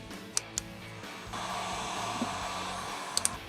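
A heat gun blows steadily on motorcycle wrap vinyl, its airy hiss starting after a second of quieter background, with a few sharp clicks and taps of handling scattered through.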